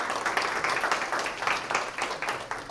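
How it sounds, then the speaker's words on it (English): Audience applause for a group of women at a summer school session, a moderate patter of clapping from a small crowd that stays fairly steady for a few seconds. "give a round of applause to these ladies"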